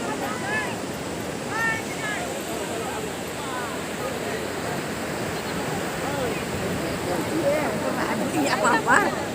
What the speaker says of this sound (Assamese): সাগৰৰ ঢৌ সাগৰৰ পাৰত